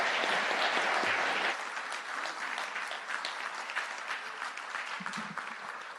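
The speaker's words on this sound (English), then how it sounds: "Okay, now everybody can applaud." An audience claps loudly and steadily at a 2016 Austin city council candidate forum. The applause is strongest in the first second and a half, then continues at a slightly lower, even level to the end.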